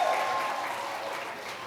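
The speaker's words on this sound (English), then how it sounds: "Give her a clap." Audience applause for a bingo win at a user experience talk, steady clapping from a crowd throughout, fairly close and even in level with no voices over it.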